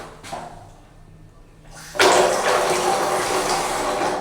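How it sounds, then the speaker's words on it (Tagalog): Shower water starts suddenly and keeps gushing in a steady hiss after a quiet moment, close by in a small echoing campsite bathroom. "tingnan naman natin ang pressure ng tubig dito sa CR"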